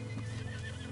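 A horse close by gives a loud, sustained neigh that fills the brief moment, with no talking over it.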